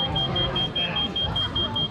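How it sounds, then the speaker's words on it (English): A high, shrill electronic beep repeats in rapid, steady pulses at a fencing competition broadcast, sitting over a low rumble of hall noise and faint murmuring. "What is that horrible beeping noise?"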